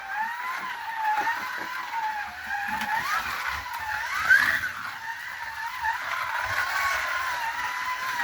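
A vintage Scalextric C122 Mini 1275GT slot car, about 46 years old, runs laps of a track with a steady high electric motor whine that rises and falls through the corners, close and continuous throughout.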